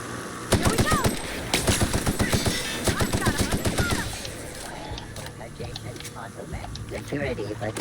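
Automatic assault rifle fire in the video game The Outer Worlds, loud and rapid, rattling out in several sustained bursts. Voices talk over it, and the gunfire thins out into softer game sounds.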